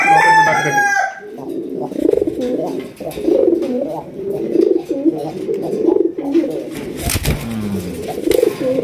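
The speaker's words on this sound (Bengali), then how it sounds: "এটা হচ্ছে নর কবুতর মাশাআল্লাহ" Pigeons coo repeatedly and fairly close at a pigeon farm, a steady run of soft throaty calls, with a brief bird-like whistle at the start and a sharp knock near the end.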